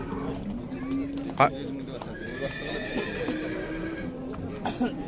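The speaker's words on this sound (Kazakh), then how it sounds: "Азыр мына жерде негизи аттар көп кирген." Horses at a busy horse market in Bishkek neigh and whinny, with hooves clopping nearby. People talk throughout.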